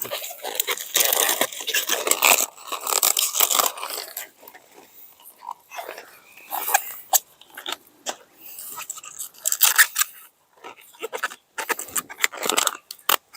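Damaged outer leaves are peeled from a freshly harvested, bug-eaten garden cabbage, giving close crisp cracks, snaps and tearing crunches in irregular bursts, with short quiet gaps between pulls.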